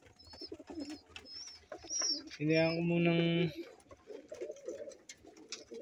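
Pet pigeons coo in a deep, throaty burst near the middle, close and fairly loud, with softer chirps and rustling around it while someone talks quietly before and after.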